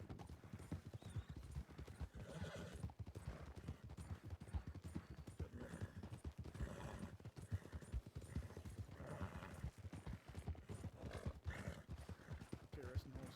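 Horses walking in a video game, a brisk, continuous run of hoof clip-clops with an occasional whinny, heard under steady talk.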